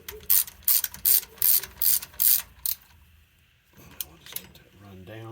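A ratchet turning a 9/16 socket snugs the axle bolts on a Mopar 8 3/4 rear axle, giving about seven bursts of sharp clicking in a steady rhythm, close and loud, followed by quieter handling and a brief voice.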